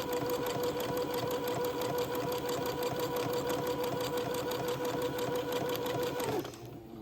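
A sewing machine runs zigzag stitches continuously and close up, fixing a lace band along the bottom of a dress with a fast, even, rattling rhythm before stopping abruptly near the end.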